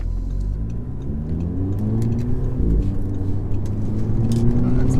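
A 2008 Audi TTS engine pulls hard under acceleration while driving, its rising harmonic drone climbing steadily, dipping briefly at a shift and then building again, loud and close from inside the car.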